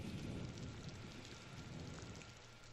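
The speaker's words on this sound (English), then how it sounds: "And it's raining." Steady rain in a grand strategy war game, a dense, even hiss with low rumbling underneath, heard quietly and alone without any talking.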